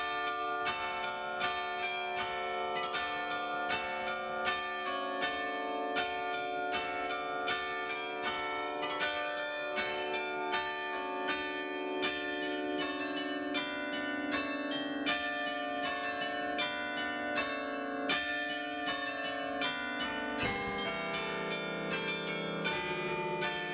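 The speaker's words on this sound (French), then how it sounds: "On peut également voir le carillon en action chaque quart d'heure." The carillon of the Tournai belfry plays a continuous melody on its many bells. Loud ringing tones overlap and sustain without a pause, with no voices.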